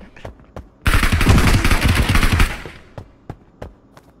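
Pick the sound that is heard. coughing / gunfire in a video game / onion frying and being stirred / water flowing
gunfire in a video game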